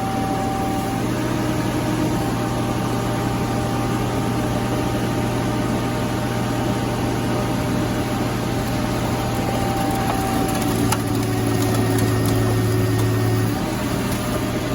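Hydraulic cylinders on a car crusher run with a continuous loud mechanical drone and hum, a steady engine-like tone holding throughout with a slight change in pitch late on; no speech.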